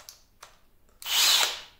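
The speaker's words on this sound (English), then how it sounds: "I've drilled pilot holes in here, and run these lag bolts down" A Cobalt power drill with a 7/64 bit boring pilot holes for lag bolts: two brief faint whirs, then a louder sustained burst of drilling lasting about half a second, with no talk.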